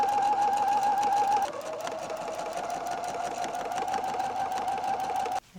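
A sewing machine runs continuously, stitching quilt pieces together with a close, loud, steady mechanical whir and a brief change in pitch partway through.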